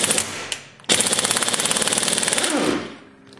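A Chicago Pneumatic CP734 impact gun hammers on a Skidmore torque tester: a loud, close, rapid rattling burst after a short blip, then a steady machine-gun-like pounding that winds down at the end.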